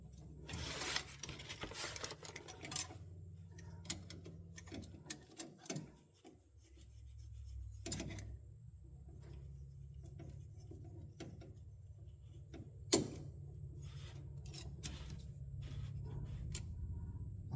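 A bent steel vacuum line for a 1932 Ford is cut, with quiet rasping and rubbing strokes in bursts, a few sharp ticks, and a faint low hum behind.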